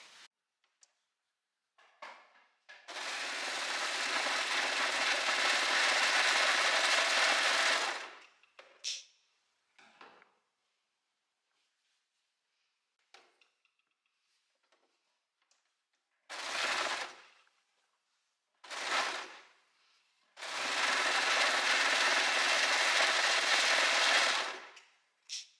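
A sewing machine runs in two long bursts and a few short ones while stitching the sleeve and skirt of a wrap dress closed, a close whirring stitch with quiet pauses between.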